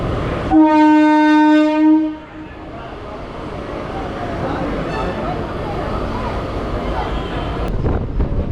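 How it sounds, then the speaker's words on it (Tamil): A suburban train nears Perambur railway station on the Tiruttani to Chennai Central line. A loud horn blast lasts about a second and a half, then a steady rumble of the moving carriages follows with wind buffeting. "அடுத்ததா ட்ரெயின் இப்போ நிற்க போகிறது"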